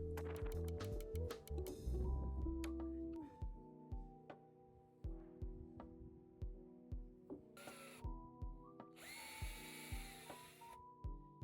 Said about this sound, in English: So the drill bit didn't go through the second board